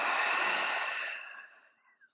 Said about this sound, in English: cleansing your body with an open mouth